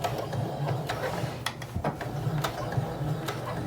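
A sewing machine stitches a small doll string backpack, a quiet mechanical rattling with light ticking clicks running steadily and close, without talk.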